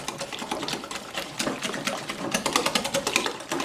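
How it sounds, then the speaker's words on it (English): Whisk beating eggs into thin whole-wheat sourdough crepe batter in a bowl, a rapid rhythmic clatter up close and continuous, without talk. "Now I'm going to switch off to a whisk because I really want to incorporate those eggs."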